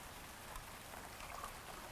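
Steady rain falling outside, a soft continuous hiss of drops on surfaces heard from indoors, faint and even throughout with no talk.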